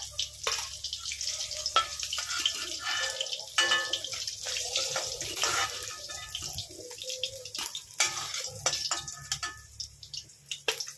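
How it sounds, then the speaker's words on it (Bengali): Katla fish pieces fry in hot oil, giving a steady crackling sizzle with bursts of sharper spattering and occasional clinks of a utensil, close and fairly loud with no talking. "এই মাছগুলো আমি একইভাবে ভেজে নিচ্ছি"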